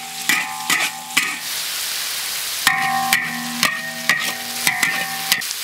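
Pork and mushrooms are stir-fried in a wok, a loud close sizzle punctuated by repeated sharp metallic clangs of the spatula against the wok in an irregular rhythm.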